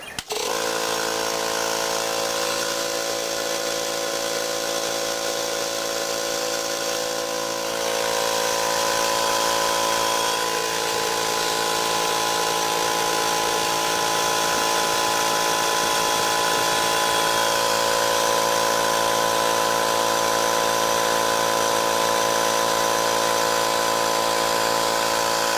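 An air compressor runs steadily after a gasket repair, its motor and pump droning loud and continuous with a slight shift in tone partway as pressure builds.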